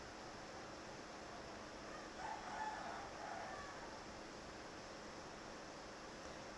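A rooster crows once, faint and distant, midway through a steady outdoor hiss.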